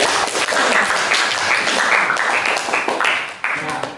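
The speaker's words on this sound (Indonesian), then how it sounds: "Kita beri tepuk tangan untuk kelompok terakhir." Audience at a teacher performance test session in a history education class applauding the final group, a dense burst of clapping from many hands that thins slightly toward the end.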